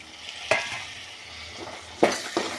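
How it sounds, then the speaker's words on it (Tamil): A peanut and legume mixture is tossed and stirred in a hot pan. Sizzling runs underneath, and a few sharp scrapes of the spoon against the metal stand out above it. "இப்போ இந்த பயிர் வந்து இதோட கொட்டி கிளறி விடலாம்"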